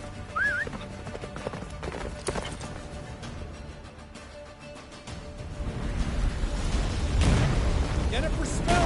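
Roach, the horse in The Witcher 3, gallops with rapid hoofbeats under shouted dialogue and game effects, growing louder toward the end.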